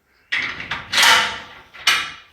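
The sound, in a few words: workshop door being opened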